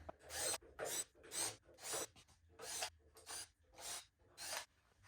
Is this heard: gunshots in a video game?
no